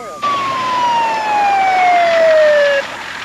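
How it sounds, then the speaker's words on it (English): An ambulance siren sounds as a single loud, steady wail that glides slowly downward in pitch and then cuts off abruptly. "Ten minutes later, the ambulance arrived"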